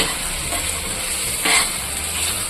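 Steady sputtering sizzle of thick tomato chutney simmering in a pan, with a brief louder bubbling pop partway through.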